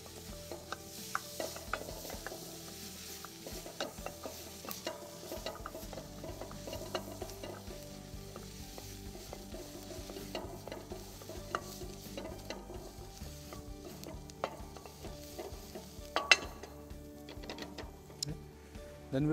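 Onions and garlic sizzle in melted butter in a pan, with steady crackling frying and repeated scraping stir strokes from a spoon close by, continuing evenly without talk.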